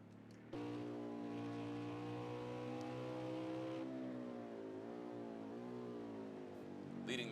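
A Ford race car engine roars on the Indianapolis road course in a racing video game. It holds a loud, steady drone, then its pitch dips and wavers as the car slides, and it revs back up near the end.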